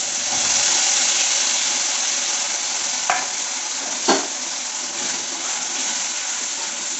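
Onion, ginger and garlic paste frying in hot oil for a Maharashtrian chicken dish, a steady close sizzle with a couple of sharp clinks or stirring scrapes partway through.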